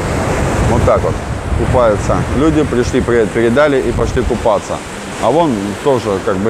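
Stormy sea surf at a beach resort, waves roaring and washing continuously with strong wind buffeting the microphone, while someone talks loudly over it.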